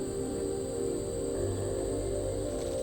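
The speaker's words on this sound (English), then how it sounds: "Can you hear the cicadas up the trees?" Cicadas buzz high in the trees on a hot day outdoors, a steady continuous drone with a constant high whine, moderately faint and unbroken with no talking.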